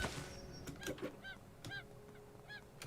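Chicken in the video game Craftopia squawking in several short, repeated honk-like calls, fairly close, over a low steady game background with no talk.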